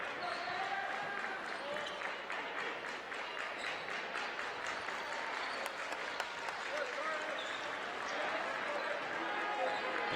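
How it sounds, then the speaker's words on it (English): A high school student section at a basketball regional semifinal claps in rapid, speeding beats over steady crowd noise and squeaking shoes, with a commentator talking over it. "MG student section beneath us getting their accelerated clap on"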